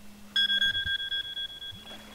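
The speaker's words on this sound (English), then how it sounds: "there's my timer" Timer alarm in The Sims 3, a rapid run of bright electronic beeps that repeats for about a second and a half before stopping, close and alone over a faint low hum.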